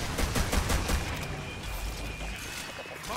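Rapid bursts of gunfire from the video game Evolve, a loud, dense fusillade that crackles continuously and fills the whole stretch without pause.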